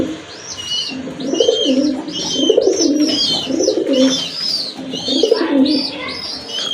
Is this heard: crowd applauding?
no